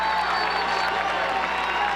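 A packed crowd at a 1993 NCAA men's lacrosse semifinal between Syracuse and Princeton roars and applauds after a goal, a dense, loud, continuous wash of cheering and clapping.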